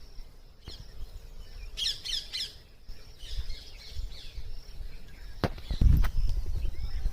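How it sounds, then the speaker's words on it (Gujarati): A few sharp, raspy parrot squawks ring out in a quick burst, moderately close, over faint outdoor background noise at a temple, followed by thuds. "મસ્ત મજાનો પોપટ પણ આવ્યો, દોડી ગયો."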